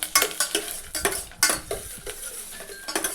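Pieces of coconut fry in ghee in a pan for a Kerala koova payasam, with a soft sizzle under repeated quick scrapes and clinks of a spoon stirring against the metal pan, close up.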